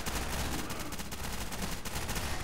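Rapid bursts of gunfire crackle continuously throughout, loud and dense like sustained automatic fire in a chaotic shootout, with no speech.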